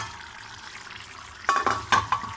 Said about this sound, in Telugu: చింతపండు జ్యూస్ వేసుకుందామండి, కొంచెం మంచి టేస్ట్ వస్తుంది.